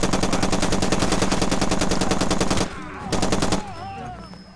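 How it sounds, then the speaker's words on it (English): Rapid, loud automatic gunfire from the video game Far Cry 2 hammers in a steady rhythm, then breaks off, bursts again briefly, and gives way to quieter tonal game sounds. "someone just shot me with a shotgun somewhere"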